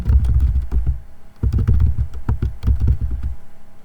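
Fingers typing on a computer keyboard nearby, a quick, loud run of key clicks broken by a short pause, then another burst of rapid keystrokes.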